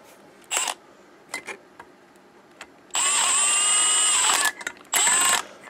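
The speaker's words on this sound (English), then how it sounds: "putting them down on my impact like that." An impact wrench spins nuts onto bolts of a Ford 429 cylinder head in several close, loud bursts: two short blips, then a sustained whir of about a second and a half, followed by another short run.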